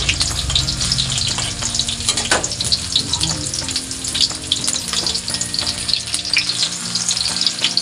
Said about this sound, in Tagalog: Igisa natin ang sibuyas. Sunod na ang bawang.